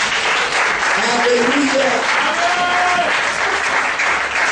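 A church congregation at a Sunday service applauding and cheering for Jesus, a steady loud wash of clapping and voices with a single sung or shouted acclamation rising over it.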